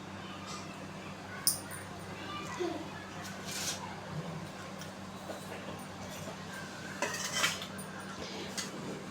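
A ladle stirs egg gravy in a pot, making repeated light metallic clinks and scrapes against the steady hum of a kitchen. A soft voice murmurs faintly in the background.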